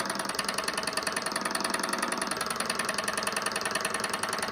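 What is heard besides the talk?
SunnyTech Stirling engine running and vibrating on table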